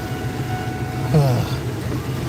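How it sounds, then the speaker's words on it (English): A truck's air conditioner blows with a steady, even whooshing hum, with a voice briefly heard over it. "Now I know it's probably noisy because of the air conditioner."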